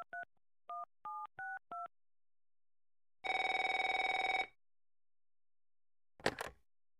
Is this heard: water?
no